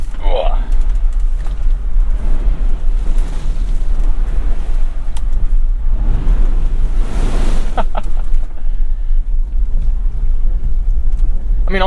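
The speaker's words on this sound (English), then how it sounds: "Let's start right off here by thrashing it through some of these puddles." A 2021 Jeep Wrangler 4xe Unlimited Rubicon on big off-road tires splashes hard through water puddles, with loud rushing water and rumbling surges over a constant low drone, close up, while someone talks.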